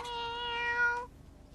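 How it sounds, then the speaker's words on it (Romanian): A single drawn-out kitten meow, clear, tonal and close, lasting about a second before cutting off into quiet room noise. "Oh, ce pisicuță drăguță!"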